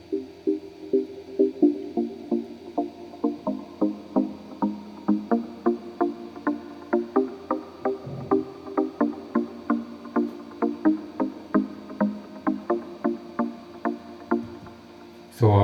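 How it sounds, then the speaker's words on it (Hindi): Music with an automated low-pass filter sweep: evenly spaced plucked notes repeat in a steady pulse while the tone gradually opens up and brightens over the passage. "लो पास इफेक्ट काम करेगा"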